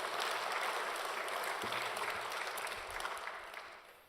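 A large church congregation claps together during worship, a dense, continuous wash of applause at moderate level with faint low murmurs underneath, tapering off at the end.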